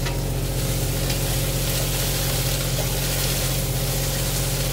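Eggplant, okra and tofu frying in a pan while being stirred, a loud continuous sizzle with a low steady hum beneath, close up and unbroken, no talk.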